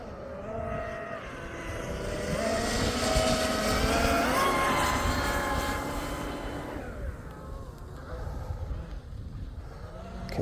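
A 51-inch TFL Ariane twin Arneson drive RC boat at full throttle through a wide turn, its high electric whine rising and shifting in pitch and then easing off, with a person talking over it.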